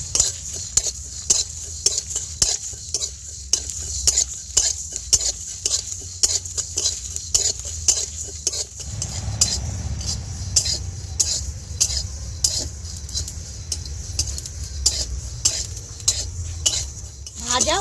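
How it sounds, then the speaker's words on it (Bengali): Coriander, fennel and cumin seeds fried in a pan, a spoon scraping and stirring in repeated quick clinks over a soft sizzle that grows steadier and fuller midway. "এবার অল্প ধনে দিয়ে দেব, অল্প মৌরি দিয়ে দেব আর অল্প জিরে দিয়ে দেব। এবার সব কিছু ভালো করে ভেজে নেব।"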